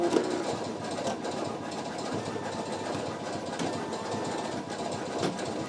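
A Brother home embroidery machine, PE900 or NQ1700E, stitches a design in a continuous rapid mechanical chatter with a steady motor drone, close and even throughout.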